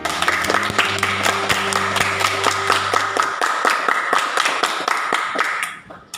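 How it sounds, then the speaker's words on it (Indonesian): An elementary school audience claps before a class drama performance, with a steady, rhythmic beat of sharp, close claps. Music sounds underneath for the first few seconds, then the clapping continues alone and fades out. "Tepuk tangan."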